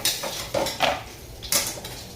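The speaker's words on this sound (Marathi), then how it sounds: "हे बघा आता मस्तपैकी वांगी आपण परतून घेणार आहोत ते कमी गॅसवर" Eggplant sautéed over low heat in a pan, stirred with a spoon: a few distinct clinks and scrapes of metal against the pan, close and isolated, with no speech.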